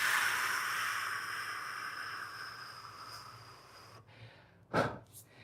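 A long, slow exhale during a forward fold in a lower-body flexibility stretching routine, a breathy hiss that fades gradually, followed after a pause by a short sharper breath near the end.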